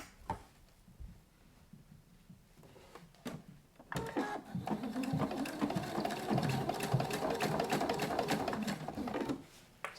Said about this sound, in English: I'm sewing on that seam again.